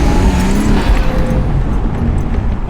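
A Nissan Skyline R32 driving along, its turbocharged engine giving a loud, steady, close drone with road rumble underneath and no talking.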